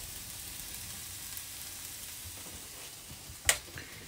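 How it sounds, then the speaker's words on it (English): Canned vegetables are stirred into onions frying in butter in a pan, giving a steady close sizzle with faint stirring and one sharp knock of a utensil near the end. "And then those can go straight in with the onions. Bit of a stir, just get that butter through."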